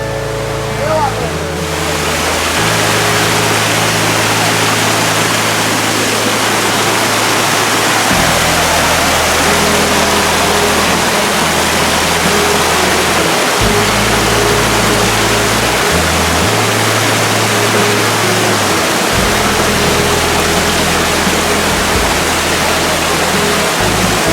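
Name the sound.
river water flowing in Bluefields, Westmoreland, Jamaica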